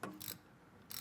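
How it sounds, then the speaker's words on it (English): A ratchet tightens a part during service on a 1989 Pontiac Firebird Trans Am, two short close bursts of rapid clicking separated by a brief pause, faint and alone. "And now we tighten it with the wrench. Or a ratchet"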